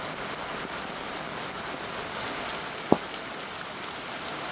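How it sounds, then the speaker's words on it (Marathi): Steady heavy monsoon rain pours down in Chiplun during flooding, a dense, unbroken hiss, with one sharp knock cutting through near the end. "सकाळपासून चिपळूणमध्ये मुसळधार पाऊस पडतो"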